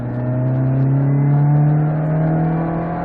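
Fiat Cinquecento Sporting driving through a curve, its small engine holding a steady, close droning hum that rises slightly in pitch and then eases, with no talk over it.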